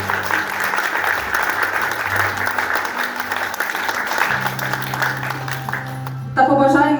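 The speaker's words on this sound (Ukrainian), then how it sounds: "Підтримуємо наших артистів щирими оплесками" Sustained applause from an audience for a performing ensemble fills the room, dense and even, with a brief burst of voices near the end.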